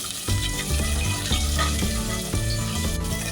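Chopped onions sizzle loudly in a hot pan with cloves, black pepper, cinnamon and cardamom for a jackfruit biryani, a steady close frying hiss broken by clinks as the spoon stirs, with no voices.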